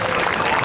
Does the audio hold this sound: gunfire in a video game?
no